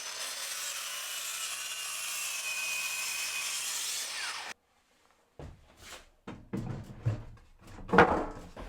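Hand sawing a glued-up wooden panel to size for a box lid on a storage garden bench: steady rasping strokes for several seconds, then a pause and a series of irregular knocks and shuffles.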